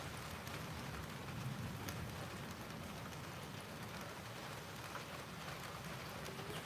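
Continuous rainfall outdoors in the Philippines, an even wash of hissing patter with occasional sharper drops, steady throughout and without any talking.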